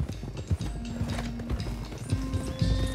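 Horses gallop in the video game Red Dead Redemption 2, a steady rhythm of hoof clip-clops heard up close over a low rumble throughout, with no talk.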